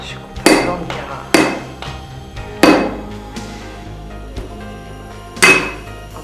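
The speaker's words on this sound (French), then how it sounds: "Je coupe un blanc de Cara." Sharp, bright cracks ring out as a hammer strikes white Carrara marble to cut mosaic pieces, four loud blows spaced about a second apart, each with a short ringing decay and a fainter tap between them.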